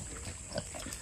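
Pig grunts softly during a belly scratch on a farm, low snuffling grunts in a short run, heard close over a steady background noise.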